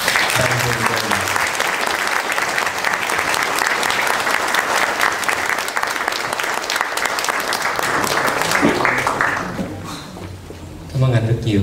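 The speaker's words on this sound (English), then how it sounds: "please give to Dr. Shaw a round of applause to thank him very much" Loud, sustained applause from a large audience fills the room, steady for several seconds before tapering off as a voice begins.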